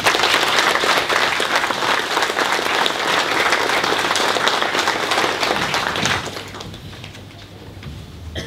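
An audience in a hall applauds steadily and loudly for an elderly mother seated among them, the clapping dense and sustained before thinning and fading away near the end.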